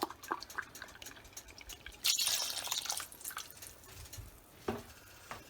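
Leftover salsa and bone broth poured from a jar into a cooking pot for stovetop chile verde, a quiet, close liquid pour with a brief louder gush midway and scattered drips.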